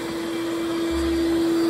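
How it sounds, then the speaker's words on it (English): A vacuum cleaner runs steadily while cleaning out the interior of a vintage NASCAR race car, a constant close whine and hum with a deeper rumble joining partway through. "so he drug out the vacuum cleaner and"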